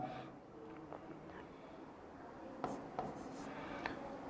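Chalk or marker writing a question on a classroom board, a few sharp scratchy strokes and taps over a quiet room, with soft rubbing between marks.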